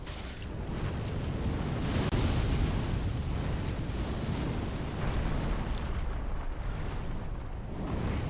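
A fire blast roars in Dark Souls 3 at Archdragon Peak, a sustained, loud rushing burst that swells early and holds for about eight seconds with faint crackling pops, with no talk over it.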